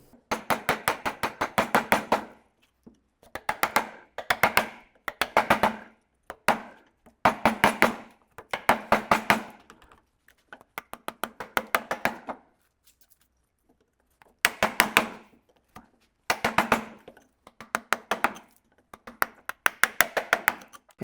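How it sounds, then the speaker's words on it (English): A wood chisel struck repeatedly with a mallet while cutting a through mortise, sharp close taps coming in rapid bursts separated by short pauses. "I'm just alternating between chiseling straight down and chiseling in toward that vertical cut"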